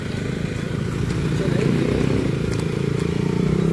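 A motorcycle engine runs with a steady low rumble that swells slightly as it passes nearby, mixed with outdoor background noise and a voice.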